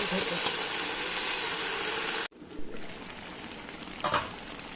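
Meat and spices stirred and fried in a pan, a loud sizzle that cuts off abruptly midway, then quieter frying with a few scraping stirs.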